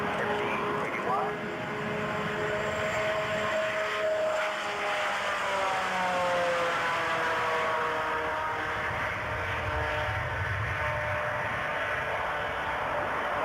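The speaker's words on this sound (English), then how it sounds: "It's a jet engine that's blowing its thrust into two contra-rotating turbines" A McDonnell Douglas MD-80 airliner with contra-rotating propfan engines roars loudly and steadily, a harsh buzzing drone with a shifting tonal whine, close and sustained throughout.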